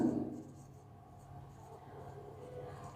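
Pen scratching on paper while a math solution for inverse trigonometric functions is written out, soft and close, with quiet steady strokes throughout.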